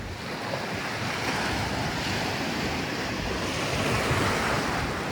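Ocean waves at sea off Palompon, Leyte roar in a continuous, dense wash with wind buffeting the microphone, loud and unbroken throughout with no voices.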